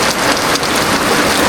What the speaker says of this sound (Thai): ฝนตกพี่น้องเอ้ยฝนลัดมาหลบฝนก่อนพี่น้องเนาะ